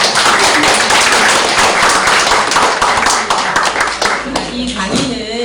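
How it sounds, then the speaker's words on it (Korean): A room of teachers at a lecture session gives loud, dense applause of thanks, which thins out toward the end as a voice starts speaking. "깊은 감사의 박수를 드릴게요"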